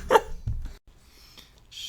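Dog barking indoors, two quick sharp barks close by followed by quiet room tone with faint shuffling.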